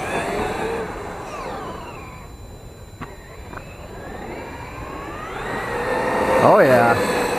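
A Traxxas X-Maxx RC truck geared with a 22-tooth pinion driving fast near ramps, its electric motor whining up and down in pitch as it speeds past, loud and close, rising again at the end.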